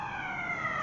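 Ambulance siren wailing past with steady, rising and falling tones, fairly loud and continuous over a brief moment, heard during work on a Cadillac CTS taillight.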